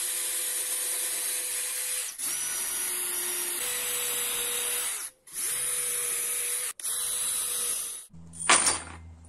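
A power drill with a 2.5 mm bit whirs in several sustained bursts with brief pauses between them, boring into a wooden board, ending with a short high-pitched screech.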